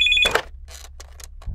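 A landline telephone ringing in a Telugu comedy scene, a short electronic ring burst followed by a few faint broken tones, close and brief, with no speech.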